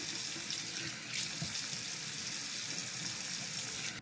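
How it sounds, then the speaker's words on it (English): Running tap water splashes steadily into a sink while hair is wetted before taking down boho crochet braids. The close, continuous hiss and patter carries on throughout with no voices. "So I'm just going to wet my hair just a little bit."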